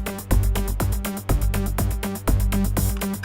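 A Predator 3 synth with no high-pass filter plays in a dense electronic track with thumping kick and bass, a rhythmic pulsing pattern carrying heavy low end that muddies the bass. The playback is loud and continuous, with no talking.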